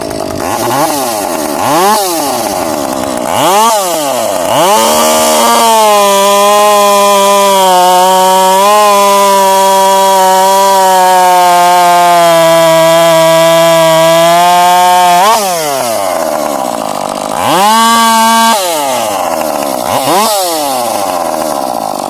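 A Husqvarna 550xp Mark 1 chainsaw revs sharply in short bursts, settles into a steady high-pitched drone for about ten seconds, then snaps back into quick throttle blips, loud and close with no talking.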